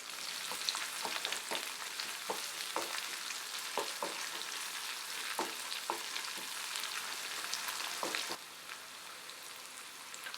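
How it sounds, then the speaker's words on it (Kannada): Green chili, black pepper, cumin and finely chopped ginger roast in a pan over a low flame for pongal, giving a steady soft sizzle with scattered crackles and pops, close and even, with no talking. "ಅದನ್ನು ಹಾಕ್ಕೊಂಡು ಎಲ್ಲನೂ ಈಗ 1 ನಿಮಿಷ ಲೋ ಫ್ಲೇಮಲ್ಲಿ ಚೆನ್ನಾಗಿ ಹುರ್ಕೊಳ್ಳೋಣ"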